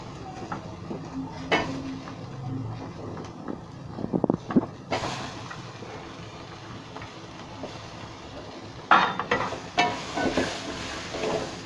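Small shallots sizzle in a hot pan for a Theni-style country chicken curry, a low crackling hiss broken by scattered clinks and scraping stirs, plus sharper bursts near the start and end.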